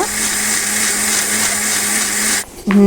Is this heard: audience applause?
no